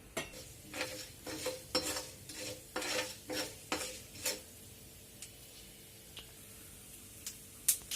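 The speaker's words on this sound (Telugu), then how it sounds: "నూనె వేడెక్కాక తాలింపు దినుసులు వేయాలి." Tempering spices crackle and sizzle in hot oil in a pan, heard as quiet irregular pops and scraping stirs that thin out toward the end, with no voices.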